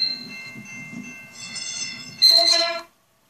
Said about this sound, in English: I also made a tram horn for the New Jersey Transit Hudson, Bergen light rail. And here's what the horn sounds like.